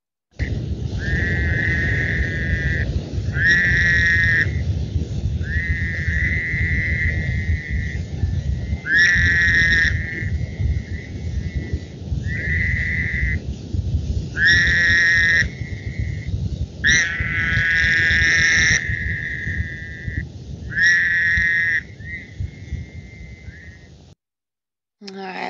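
Frog or toad calls pitched lower than an American toad and shorter, with repeated trilling bursts rising over a dense, continuous chorus of calling and a low rumble, close and loud throughout.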